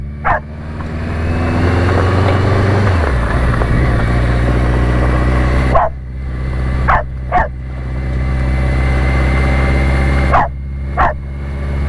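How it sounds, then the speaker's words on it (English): Dog barking in several sharp bursts, a pair around the middle and another pair near the end, over a steady low engine-like hum; no talking. "been barking for an hour"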